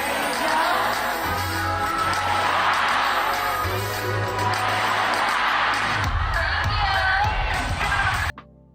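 A concert crowd of fans at a fan meeting in Shenzhen cheers and screams steadily and loudly throughout, a dense wash of voices that cuts off abruptly near the end.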